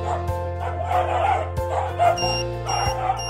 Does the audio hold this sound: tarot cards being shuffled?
no